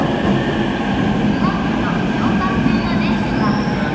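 A Keikyu local train at a station, a loud continuous rumble of rail running with faint wheel squeal and a voice speaking over it.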